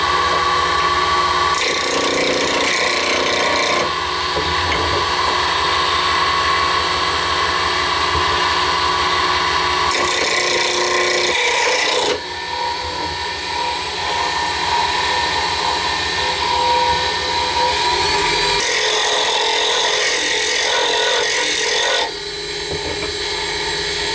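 Wood and epoxy pen blank turned round on a lathe, a steady loud rasping scrape of the tool on the spinning blank, continuing throughout with brief pauses and changes in cutting pressure.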